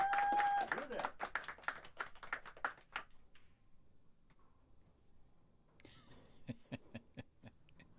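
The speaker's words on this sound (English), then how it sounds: "Got a huge crowd here for a Tuesday night." A small crowd claps at a Tuesday-night bowling match, a brief patter of scattered claps near the end, following talk and quiet alley ambience.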